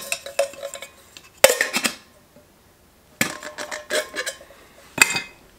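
Light metallic clinks and rattles come in short bursts as a titanium cup knocks against other gear while being packed into a backpack, with quiet gaps between.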